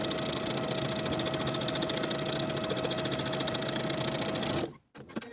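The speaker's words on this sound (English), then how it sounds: "Sew the pocket to the seam allowance underneath with about 1/8 inch seam allowance from the top to the bottom" A sewing machine stitches a pant pocket to the seam allowance with a steady, fast, even whir that runs unbroken for several seconds, then stops abruptly near the end, leaving a short quiet gap and a few soft handling noises.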